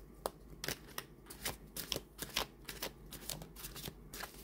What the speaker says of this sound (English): They are a nice flexible card, and they riffle shuffle very well.